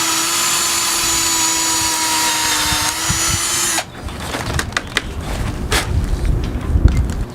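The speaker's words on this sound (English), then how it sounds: "Now we have to drill a 1/4-inch hole at the top of the track" A power drill bores a 1/4-inch hole at the top of a sailboat mast track. A steady high whine runs for nearly four seconds, then gives way to rougher, uneven grinding and scraping bursts up close, with no talk.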